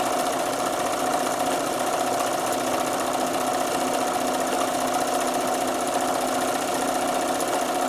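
A sewing machine runs continuously at an even, fast pace while stitching, with a steady close whir and no speech.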